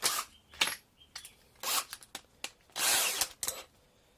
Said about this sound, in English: So just slowly boring it out, being very careful I don't hit my hands.